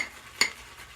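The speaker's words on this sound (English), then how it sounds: "And sorry about the bowl clanking." A single bright clink from a bowl while shaving soaps are mixed, short and sharp over a faint, quiet background.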